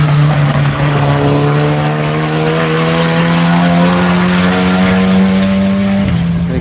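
Race car passing on a flying lap during the Tire Rack One Lap of America, a loud sustained engine roar that stays near and steady, then drops in pitch at the end as it goes by.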